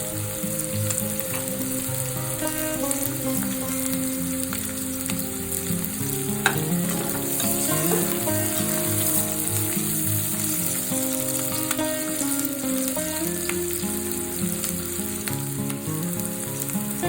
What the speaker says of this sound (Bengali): পেঁয়াজগুলো হালকা ভাজা হলে